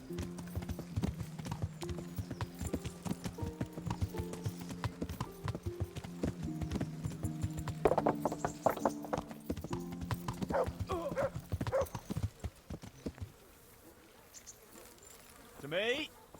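Horse hooves in the video game Kingdom Come, a steady rhythmic clip-clop of a horse moving at a walk over a low droning hum, with a short snort or whinny near the end.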